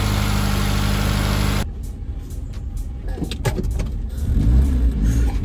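A car engine with VVL runs at a steady idle after new spark plugs, a low mechanical hum that settles after a loud start, with faint clicks and rattles over it.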